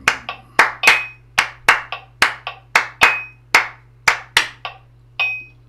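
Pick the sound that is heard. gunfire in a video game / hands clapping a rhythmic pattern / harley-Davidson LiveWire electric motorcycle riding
hands clapping a rhythmic pattern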